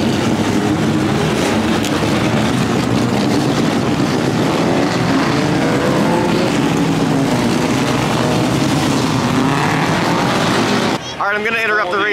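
Race cars roar around an oval track in a dense, continuous, loud engine drone that holds steady before cutting off abruptly near the end.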